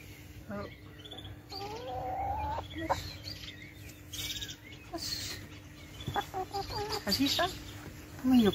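Chickens cluck and murmur close by in a chicken coop, with scattered calls and a louder squawk near the end over a low steady hum.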